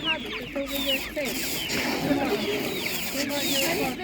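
Several naked neck chickens cluck and chatter continuously nearby at an animal market, with overlapping calls and a steady background murmur.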